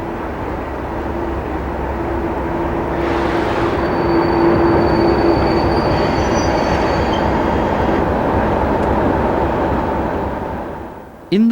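A Class 37 locomotive-hauled rush hour train passing close by, a loud sustained roar and wheel rumble with a faint high whine that swells mid-pass and then fades.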